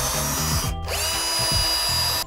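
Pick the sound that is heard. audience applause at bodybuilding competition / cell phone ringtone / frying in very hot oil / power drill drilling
power drill drilling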